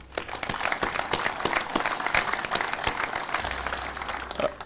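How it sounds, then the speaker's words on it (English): An audience at a city ceremony gives sustained applause, dense, even clapping that runs steadily throughout with no voices over it. "So one more round of applause."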